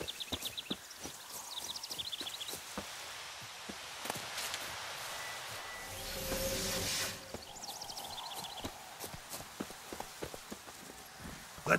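Horse hooves clip-clop steadily in The Witcher 3, a close, rhythmic run of hoofbeats over a faint outdoor ambience, with a brief swell of rushing noise midway before the trotting resumes.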